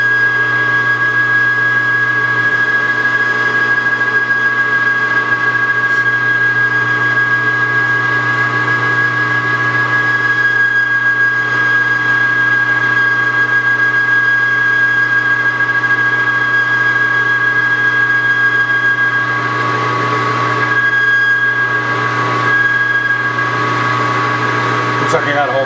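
A lathe takes a 30 thou boring cut inside a Stirling engine hot cap, giving a steady, loud machine hum with a sustained tonal whine that barely changes across the cut; a voice speaks now and then.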